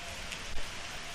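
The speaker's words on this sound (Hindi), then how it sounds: "और जब वापस आश्रम लौटने लगे तो बारिश होने लगी।" Rain falls in a steady, soft hiss, faint and even, with no voices over it.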